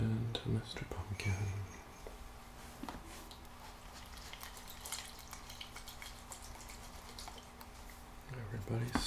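Chicken broth poured into a hollowed pumpkin, a soft liquid trickle and drip heard close, with whispering and faint handling noises around it.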